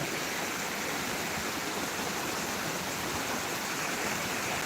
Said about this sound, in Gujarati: પાણી પડે છે તળાવના નીકળે છે